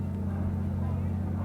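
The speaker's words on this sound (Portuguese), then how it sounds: "Os motores dos carros de assalto começam a funcionar" Engines of military assault vehicles running during the 25 April uprising, a steady, loud low rumble with a deep droning hum that holds without a break.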